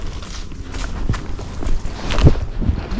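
A Spotted Saddle Horse, a gaited breed, steps down a set of steps while being ridden, giving a few soft, irregular hoof thuds close by over light background noise.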